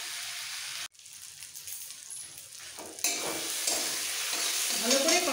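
Fried potatoes are tossed with spices in a hot pan for a katla fish curry with cauliflower, giving scraping stirs and a steady sizzle. After a sharp clatter near the start, the frying grows louder and stays continuous.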